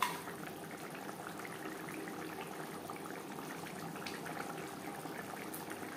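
A low-oil fish curry gravy with potatoes simmers in a pan, giving a steady, soft bubbling hiss that stays even and fairly faint throughout with no voices.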